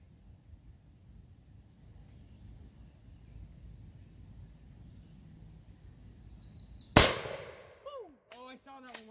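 A single sharp, loud shotgun blast firing buckshot outdoors at a shooting session, following quiet wind noise, with a brief echo and then faint voices afterward.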